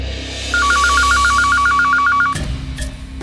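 A telephone rings with a rapid warbling electronic trill, repeating steadily for about two seconds at close range, then cuts off and leaves only faint background noise.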